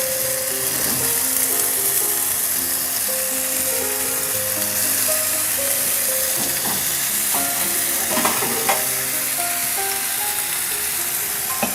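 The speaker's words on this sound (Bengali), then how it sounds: "এবার লবণ হলুদ মেখে রাখা টমেটোটা এখানে মাঝারি আঁচে দিয়ে ভেজে নিব।" Tomato mashed with salt and turmeric frying over medium heat in a little oil in a pan, giving a loud, continuous close sizzle with a few stirring scrapes partway through.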